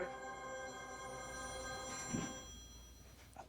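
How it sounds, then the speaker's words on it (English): A mobile phone rings unexpectedly during a conversation, its electronic ringtone holding steady, bright and fairly loud for about two seconds before fading out into quiet room noise. "Oh, that was my phone?"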